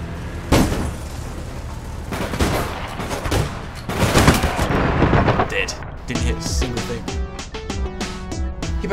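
Rapid bursts of gunfire and heavy booming shots from a shooter game, APB Reloaded, fill the stretch loudly and close, with repeated volleys, then give way to more scattered weapon sounds and music-like tones.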